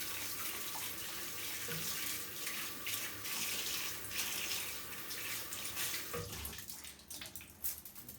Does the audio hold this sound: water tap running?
yes